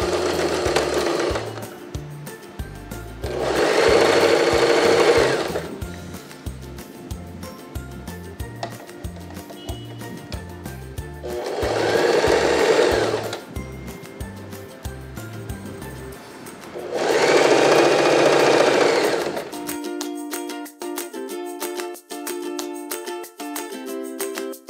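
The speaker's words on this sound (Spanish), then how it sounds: "nos vamos a coser la parte del costado. Vamos a hacerlo con costura francesa." A sewing machine stitches the side seam of a blouse with a French seam, running in four loud, buzzing bursts of a few seconds each, separated by quieter clicking and handling, with a fainter mechanical whir at the end.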